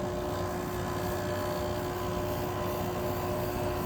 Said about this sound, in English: it sounds like the compressor's starting to work finally